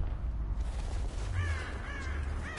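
Crows cawing in the video game Rise of the Tomb Raider, two or three harsh distant caws late in the span over a steady low windy rumble.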